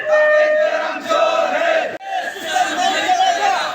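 A loud crowd chants in unison at a mass protest rally against an exam paper leak, with voices raised in rhythmic slogans, a brief break near the two-second mark, then more chanting.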